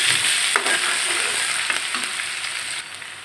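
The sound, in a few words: ginger garlic paste and turmeric being stir-fried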